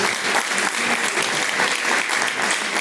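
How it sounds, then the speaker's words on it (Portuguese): A church congregation claps in praise of God during a live worship service, a dense, steady wash of applause from many hands, loud and continuous with no pause. "Palmas para louvar a Deus."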